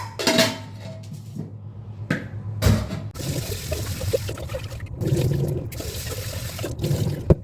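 Rice being rinsed in water in a home kitchen: close, steady running and sloshing water with louder splashing bursts near the start and again midway, no voices.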